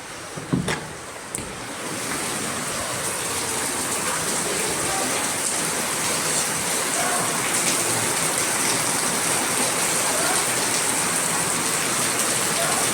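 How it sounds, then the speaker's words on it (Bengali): Very heavy rain pours down outdoors, a steady dense hiss of drops drumming on surfaces that holds loud and unbroken throughout, with a couple of brief knocks near the start. "এত বৃষ্টি হচ্ছে যে ভাবতে পারবে না।"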